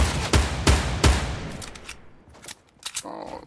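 Fortnite gunfire hits hard as three or four loud, closely spaced shots, then falls to scattered quieter pops and short bursts as the shooting fades.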